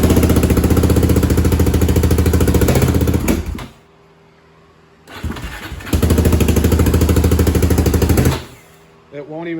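A 2005 Yamaha Raptor 660R ATV engine cranks and runs loud and close in two bursts, each stopping abruptly rather than revving up, separated by a quieter gap.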